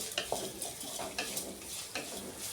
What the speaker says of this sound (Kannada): ಈಗ ಹಾಕಿ ನೀಟಾಗಿ ಮಿಕ್ಸ್ ಮಾಡಿಕೊಂಡು ಸ್ವಲ್ಪ ಟೊಮೆಟೊ ಮೆತ್ತಗಾಗಲಿ ರೀ